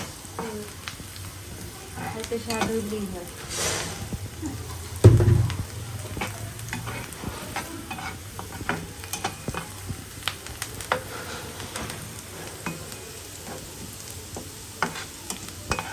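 Water lily (shapla) stems frying and being stirred in a pan, a steady close sizzle with scraping stir strokes and one louder clatter partway through, while a voice speaks briefly over the cooking.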